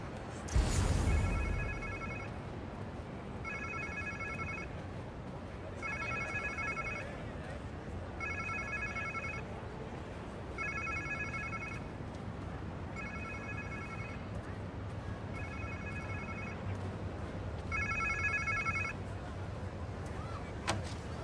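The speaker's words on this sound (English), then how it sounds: "Sounds like somebody's phone." A cell phone rings in Marvel's Spider-Man 2, its repeating electronic tone pattern sounding in regular bursts about every two seconds over steady ambient game noise, with a short loud thump at the start.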